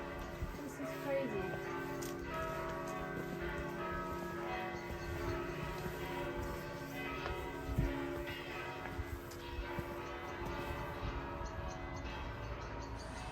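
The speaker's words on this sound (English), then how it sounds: "Then church bells do be tolling, which means it's 5 p.m." Church bells toll near San Domenico church in Siena, a sustained, ringing wash of overlapping tones with a steady hum of outdoor ambience and faint voices underneath.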